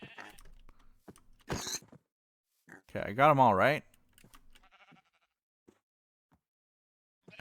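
Sheep bleat loudly in Minecraft in one strong wavering call, with a shorter bleat just before it and faint keyboard clicks. A person talks briefly between the sounds.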